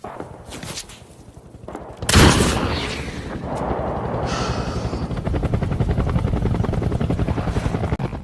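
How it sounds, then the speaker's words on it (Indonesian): A loud, close helicopter with rapid, steady rotor thumping, preceded by sharp cracks that sound like gunfire, from the war film The Wall (2017). "mereka tidak mendengar perkataan Ishak karena terhalang oleh suara helikopter"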